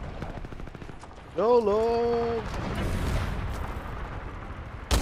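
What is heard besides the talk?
gunshots in the video game Titanfall 2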